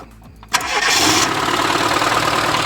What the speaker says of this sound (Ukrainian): Запускається чудово.